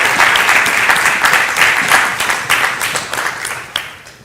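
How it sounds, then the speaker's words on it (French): A studio audience applauds loudly and steadily for a guest arriving on a café talk show, dense clapping that tapers slightly toward the end. "qu'on t'applaudisse encore très fort"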